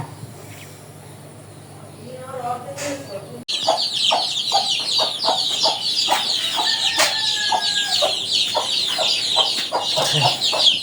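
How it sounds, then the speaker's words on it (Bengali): Chickens of a native desi breed cluck and peep repeatedly at close range, with busy chirping from chicks over a low background hum, on a rooftop balcony garden. "তারপরে দেশি মুরগি দেশি মুরগির বাচ্চা"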